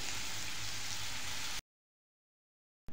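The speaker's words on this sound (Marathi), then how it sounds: "त्यामध्ये जिरे चांगले गरम करून त्यामध्ये कांदा टाकून घेतला आहे." Onion frying with cumin in a hot wok makes a steady hiss and crackle for about a second and a half, then cuts to silence before briefly resuming.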